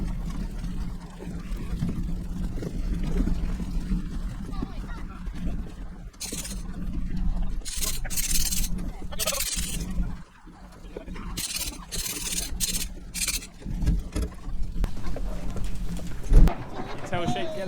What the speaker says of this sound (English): What do you think of the sheep loading, Pia?